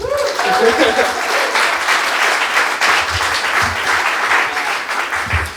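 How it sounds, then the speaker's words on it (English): Audience applause at a marketing talk for a pre-seed startup founder, a dense, steady clapping from a crowd that holds throughout and begins to taper at the end, with some voices mixed in. "So please give him a round of applause."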